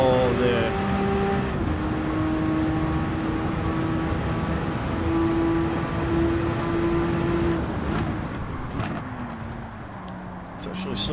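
A race car engine in Gran Turismo 7 holds a loud, sustained wailing tone through long gear pulls, with the pitch stepping between shifts and easing off toward the end.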